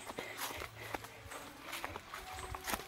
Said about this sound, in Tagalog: Naririnig ko talaga ang yabag ng kanyang busis.